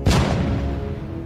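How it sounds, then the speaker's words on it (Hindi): A heavy wartime blast of artillery or rocket fire in Sudan, one loud deep boom at the start that rolls off into a long rumbling decay with no voices. "तोपों और रॉकटों की धमक"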